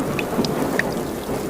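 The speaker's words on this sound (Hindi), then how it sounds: "बारिश बहुत तेज होने लगी है।" Heavy rain pours down steadily in a dense, hissing wash, with occasional sharper drops standing out against the constant downpour.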